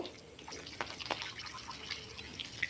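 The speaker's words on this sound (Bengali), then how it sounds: "তো এইভাবে করে ভেজে নিচ্ছি কাঁচা লঙ্কাগুলো অল্প।" Green chillies fry in hot oil in a wok, giving faint, scattered crackles and small pops over a low sizzle, with no voices.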